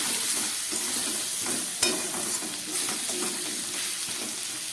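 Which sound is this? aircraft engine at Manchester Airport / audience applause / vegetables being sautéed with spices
vegetables being sautéed with spices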